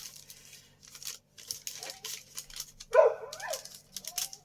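Dogs barking indoors in a home craft space, several short yaps scattered among soft paper crinkling and tearing, with one louder bark in the middle.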